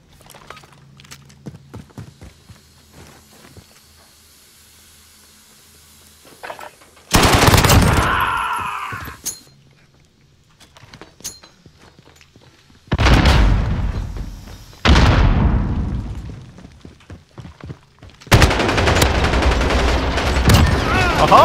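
Gunfire in Modern Warfare, with several loud, close bursts of rapid automatic fire separated by quieter stretches of faint clicks and movement, with the longest barrage at the end.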